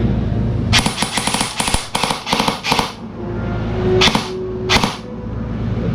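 A Cyma Sport SR16 airsoft rifle fires on full auto: a rapid, steady clatter of shots in a burst of about two seconds, then two short separate bursts, close and loud, with no voices.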